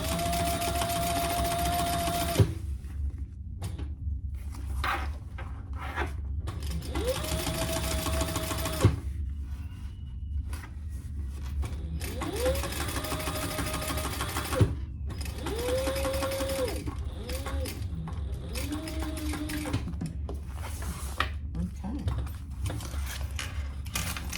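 A sewing machine stitches the lining of a crossbody bag in a series of steady runs separated by short pauses, with a recurring whirring tone and small mechanical clicks between passes.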